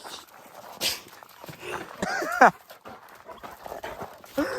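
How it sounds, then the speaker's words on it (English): Dog giving short whimpers and yips mixed with brief bark-like sounds, close and intermittent, with a person's voice nearby. "Doggy."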